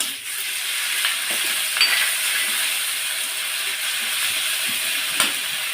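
Steady sizzling and frying hiss from a pan of spices, with a few faint stirring scrapes and clinks, no voices.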